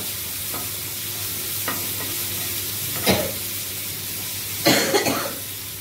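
Curry leaves frying in hot oil in a pan, a steady close hiss of sizzling broken by a few sharper crackling bursts as the leaves hit the oil, with faint kitchen movement and no talk.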